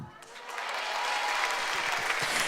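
An audience claps for a seven-year-old child on a children's show, the applause swelling from a thinner start into steady, full clapping.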